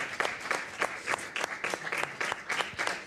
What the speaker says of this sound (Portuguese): Um aplauso para o professor Amadeu Trevo